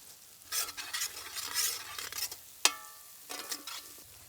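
Masala with red and green chilli sauces and salt is stir-fried in a pan for chapati noodles, with bursts of spatula scraping over soft sizzling and one sharp metal clank partway through.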